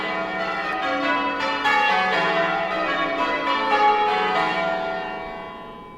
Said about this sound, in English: That never seems Sunday if you can't hear church bells going.